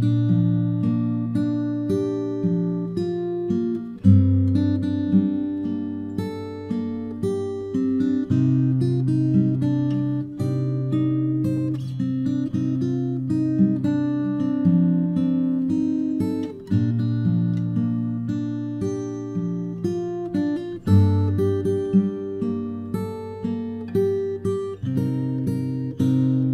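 A solo fingerstyle acoustic guitar plays the first verse of a song. Plucked bass notes and chords ring out in a steady, clear rhythm with no talking throughout.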